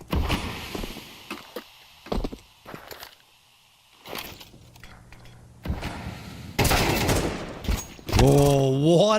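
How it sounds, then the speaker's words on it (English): Counter-Strike AK rifle gunfire in a competitive ESEA league match, sharp bursts of shots broken by pauses, followed by heavier loud fire and in-game effects near the end. "Oh, what a shot from Swayzer. Gets traded out immediately, but that is a wicked one. with the AK to find the opener"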